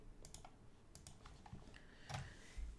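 Quiet typing on a computer keyboard while entering an SQL insert command, with scattered soft key clicks in short irregular bursts, faint and close, no talk.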